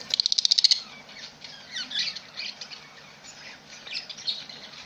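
Caged lovebirds with two young chicks from a second brood: a quick burst of bright, rapid chirps up close at the start, then softer, scattered twittering against low background noise.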